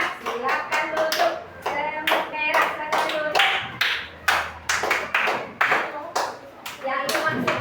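A class of fifth-grade primary school children clap their hands in a classroom in quick rhythmic bursts, loud and close, with children's voices mixed in between the claps.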